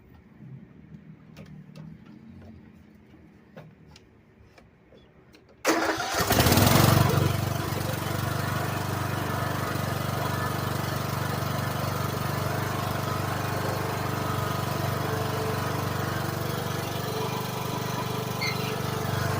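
A Troy-Bilt hydrostatic riding lawn mower with a 46-inch deck cranks with a few faint clicks, then its engine catches abruptly and settles into a loud, steady running roar that holds for the rest of the time.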